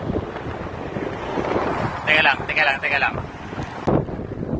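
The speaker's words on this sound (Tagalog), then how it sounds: "Lakas ng hangin." Strong wind by the sea at the Jeddah waterfront buffets the microphone during a bike ride, a steady low rumble, with a person briefly speaking Filipino over it.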